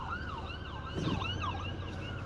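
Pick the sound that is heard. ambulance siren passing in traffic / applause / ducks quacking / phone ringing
ambulance siren passing in traffic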